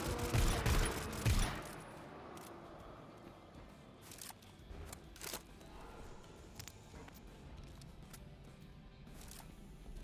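Video game gunfire comes as a loud burst of rapid shots at the start, followed by quieter scattered shots and clicks over low background noise.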